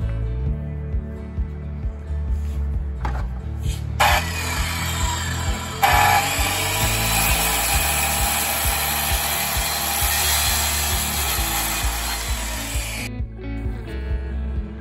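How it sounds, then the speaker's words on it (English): A circular saw cuts wood, run from a golf car used as home backup power, with a loud, steady blade whine that rises sharply around the middle and continues for several seconds before cutting off. "A circular saw."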